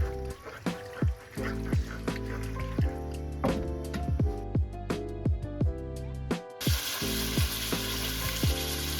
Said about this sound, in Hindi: देखिए ये मछली पक रही है। आग आपने बिल्कुल मीडियम रखनी है, मछली बड़ी जल्दी पक जाती है।